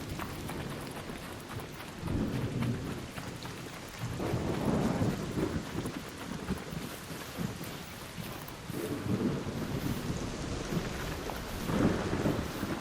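An electrical storm rolls through the ARC Raiders video game, with steady rain hissing and repeated low rumbles of thunder swelling and fading every few seconds, and no one talking.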